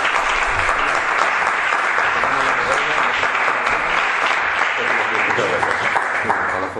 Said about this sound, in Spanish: Muy bien, le damos un aplauso.